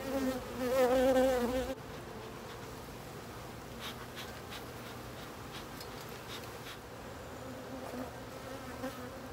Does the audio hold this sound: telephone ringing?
no